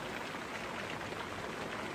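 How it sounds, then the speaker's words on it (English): Heavy storm rain drums on camping tents in the woods at night, a continuous even wash of pattering close around, steady from start to finish with no voices. "With the storm now fully dumping rain on us, we took to our tents to call it a night."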